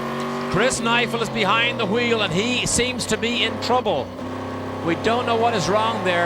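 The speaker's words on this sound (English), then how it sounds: "Listen to the motor here. It sounds like it's on all 8 still." A Corvette C5-R V8 race car idles and revs at Road Atlanta during a 10-hour endurance race while in trouble, the engine note steady and loud beneath continuous excited commentary.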